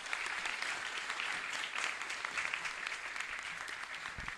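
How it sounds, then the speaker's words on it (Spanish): Congregation applauding inside a church chapel during Mass, a steady, fairly distant wash of clapping from many hands that carries on throughout without pause. "Fuerte los aplausos."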